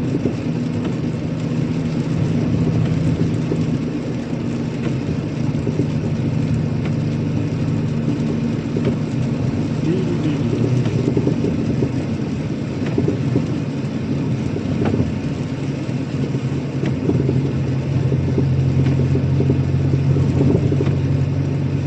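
A learner car drives along a road in a Belarusian village after a thunderstorm, a deep, continuous engine rumble that swells and shifts slightly as it travels, with no talk heard.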